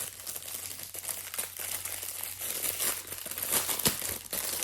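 Crinkly plastic packaging from a Temu order being opened and handled up close, a steady run of rustling and crumpling with sharper crackles, no talk.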